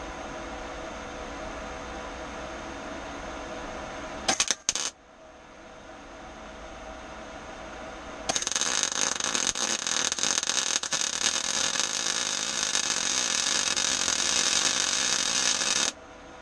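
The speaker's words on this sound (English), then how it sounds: "first time I've used a welder for a while" Röhr MIG-200MI MIG welder laying first welds, giving a steady, close crackling hiss that runs unbroken for about eight seconds after a brief short burst and a quiet stretch of background hum.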